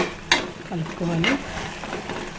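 Stuffed brinjal curry with freshly added masala is stirred in a frying pan, close scraping and clinking of the spoon over a soft sizzle, with a voice speaking briefly alongside.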